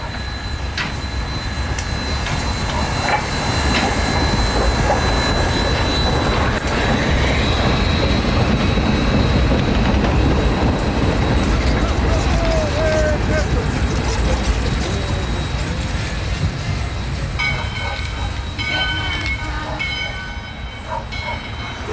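A U.S. Sugar steam locomotive hauls a Christmas excursion train past at close range, a loud continuous rumble of wheels and cars with squeals and clanks throughout, and voices murmur in the background.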